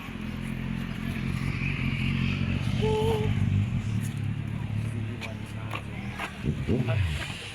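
A motorcycle engine runs with a steady low, throbbing drone throughout while people talk nearby and a few clattering knocks come through.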